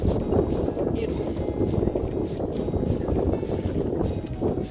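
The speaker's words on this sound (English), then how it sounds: "Wind just picked up." Wind gusting outdoors on a Florida hiking trail, a steady broadband rush buffeting the microphone with low rumble throughout, fairly loud and continuous with no talk.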